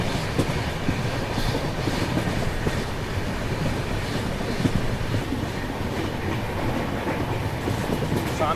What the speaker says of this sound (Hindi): कर्नाटक संपर्क क्रांति एक्सप्रेस।